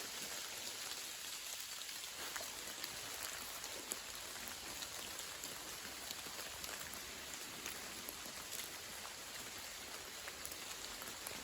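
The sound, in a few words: rain dripping from leaves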